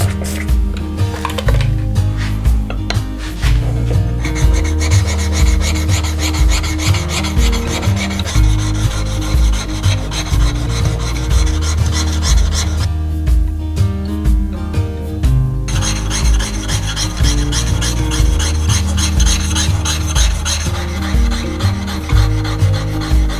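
Steel woodworking chisel flattened on sharpening stones, a loud continuous rhythmic rasping scrape of repeated back-and-forth strokes, close and steady, with no speech.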